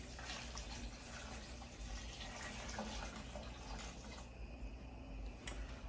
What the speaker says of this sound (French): Je vais ajouter juste de l'eau. J'ajoute de l'eau.